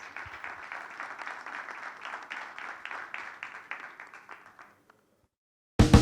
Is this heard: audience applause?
yes